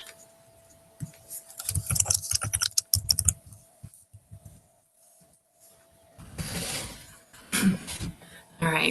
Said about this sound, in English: So let me even type.